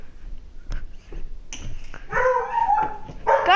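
A dog barks and yips in a Fortnite game on PS4, a few sharp calls rising in the second half over low background rumble, fairly close and loud.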